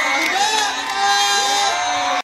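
Crowd at Bangkok Health Day 2012 cheers and whoops loudly for three performers on stage, a sustained roar of voices and applause over music-like tones that cuts off abruptly at the end.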